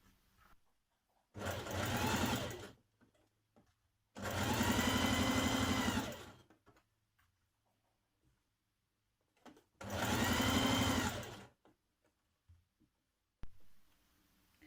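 A sewing machine runs a 1.5 cm underarm seam on a dress sleeve, three separate bursts of steady whirring stitching, each a couple of seconds long, with quiet pauses between.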